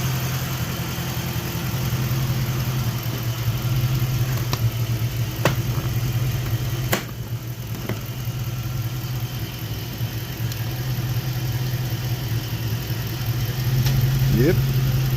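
A car engine idles steadily after a cold winter start, a constant low hum with a few faint knocks and clicks from nearby work.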